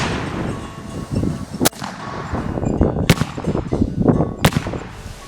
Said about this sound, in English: I don't think I need to fire 3 shots to figure this one out.